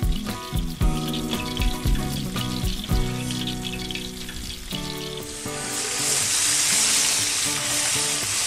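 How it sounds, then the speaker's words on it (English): Soft shell crabs frying in hot oil in a pan, a loud continuous sizzle and crackle with clattering handling noises early on, the hiss swelling toward the end. "I fry the crabs in 2 separate batches to make sure not to overcrowd the pan."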